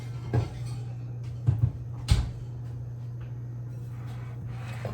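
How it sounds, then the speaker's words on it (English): A cast iron skillet going into a kitchen oven, three clanking knocks of metal on the oven rack over a steady hum, close and fairly distinct. "I need to put my skillet in the oven to be preheating"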